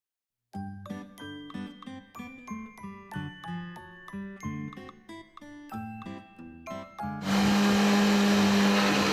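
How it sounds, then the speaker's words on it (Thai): Bell-like tones ring in a steady sequence for several seconds, then a blender starts up with a loud, constant whir, mixing fresh milk with Pipo jelly, that carries to the end. "ให้เราเอานมสดกับปีโป้นะฮะ ไปปั่นในเครื่องปั่นนะฮะ"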